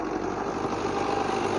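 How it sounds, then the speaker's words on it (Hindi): A tractor engine runs while ploughing a field on a farm, giving a steady droning hum at an even level that continues throughout with no talk. "अभी ट्रैक्टर का हल चल रहा है।"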